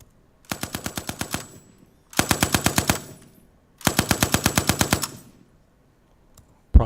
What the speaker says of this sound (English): Here's an M60 machine gun. It's a belt-fed machine gun.